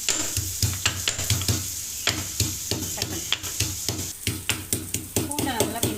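Food sautéing in a frying pan while a Tamil-style breakfast is cooked, with onions softening before tomatoes go in: a steady sizzle broken by repeated stirring scrapes and clinks, close and fairly loud throughout.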